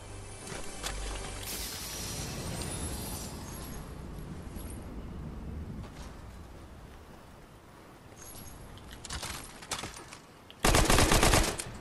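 Gunfire from a weapon in the battle royale game Fortnite: a busy stretch of rapid shots over game noise, then a louder, dense burst of automatic fire near the end.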